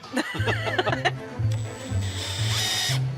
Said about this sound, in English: I'm just cutting tenons into the ends of these sticks